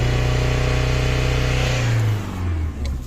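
An Opel Vectra diesel car engine with a faulty pump revs hard and holds a loud, rough, droning note, then drops back briefly and picks up again near the end.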